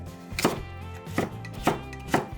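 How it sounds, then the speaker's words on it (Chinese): A kitchen knife chopping celtuce and carrot into thin strips on a cutting board, with four crisp, evenly spaced chops heard close up. "莴笋切薄片，再切成细丝；胡萝卜切成细丝"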